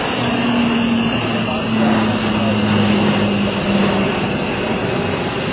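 Lockheed C-130J-30 Hercules turboprop flying a low airshow demonstration pass at Westfield: loud steady propeller drone with a wavering engine tone, sustained throughout, close and powerful.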